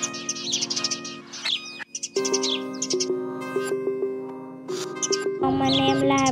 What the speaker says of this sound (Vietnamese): Chỉ là một đoạn ngắn trong tiếng chim chuẩn đầy đủ và cập nhật mới nhất để đi bẫy